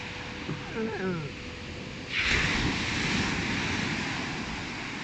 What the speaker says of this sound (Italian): Sono solo le onde.